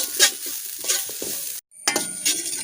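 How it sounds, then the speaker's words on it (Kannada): Grated coconut frying and being stirred in a pan for a curry-leaf chutney powder: steady crackling sizzle with scraping stirs, briefly cut to silence, then resuming close and loud, no talking. "ತೆಂಗಿನಕಾಯಿ ತುರಿಯ ಈ ಕಲರ್ ಚೇಂಜ್ ಆಗುವವರೆಗೆ ಫ್ರೈ ಮಾಡಿಕೊಳ್ಬೇಕು"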